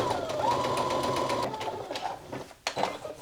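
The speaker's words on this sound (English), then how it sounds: "we're going to sew another line of stitching just to reinforce this crotch area between the two notches" A sewing machine stitches a second reinforcing line along a garment's crotch seam, a close, steady mechanical hum lasting about one and a half seconds and then fading into a few scattered clicks and handling knocks.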